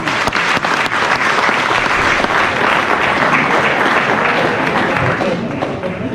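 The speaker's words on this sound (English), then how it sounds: "Give me a round of applause." Loud, dense round of applause from the audience at a community meeting with a city councilwoman, sustained and close throughout, with a few thumps mixed in, easing slightly toward the end.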